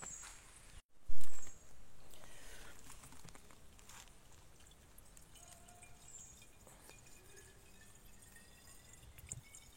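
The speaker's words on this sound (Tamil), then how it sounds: "இன்னைக்கு இந்த ஊற்றுல இருந்து தண்ணி குடிக்க போகிறோம்." Water trickles and drips from a natural spring outdoors on a pineapple farm near Ooty: a soft, steady liquid patter that runs close by throughout, with one brief louder burst of noise early on and no talk.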